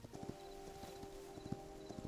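Horse hooves galloping in the video game Hytale, a quick steady clip-clop rhythm of game hoofbeats repeating under a sustained musical tone, at moderate level with no talk.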